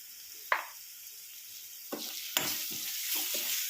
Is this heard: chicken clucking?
no